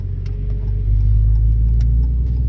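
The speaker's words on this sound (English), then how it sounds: "You can feel the engine opening up right in front of you." A car engine opening up and revving as it accelerates, heard from inside the vehicle as a loud, steady low rumble that swells partway through, with no talk over it.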